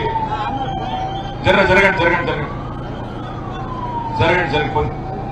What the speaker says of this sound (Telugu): అంబులెన్స్ ఓనియండి తమ్మి జరగండి అంబులెన్స్ ఓనియండి జరగండి